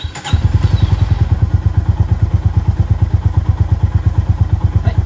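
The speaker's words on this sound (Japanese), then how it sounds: "エンジンかけます。" A Honda GB350S motorcycle engine cranks and catches almost at once, then settles into a loud, steady idle of evenly spaced deep thumping pulses close by.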